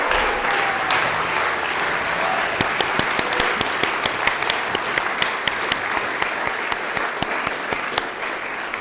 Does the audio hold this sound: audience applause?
yes